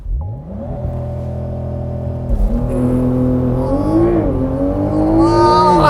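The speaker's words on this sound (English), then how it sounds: "That is a fast convertible all-wheel drive launch." A 2022 Porsche 911 GTS Cabriolet, an all-wheel-drive convertible with 473 horsepower, holds a steady high idle under launch control and then surges forward with a loud rising engine note through the gears, heard from inside the car.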